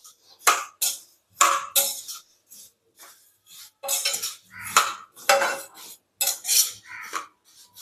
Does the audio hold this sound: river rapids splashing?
no